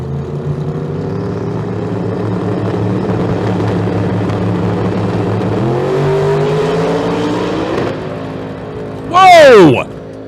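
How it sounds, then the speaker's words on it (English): A drag racing car roars down the strip at a street car event in Las Vegas, its loud engine drone holding steady for several seconds before a sharp, squealing burst near the end, under an announcer's commentary. "Sean Green gets out about 200 feet, starts making his way down there"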